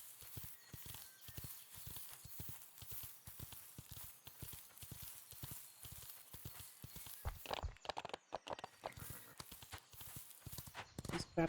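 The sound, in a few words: horse hooves walking, from a video game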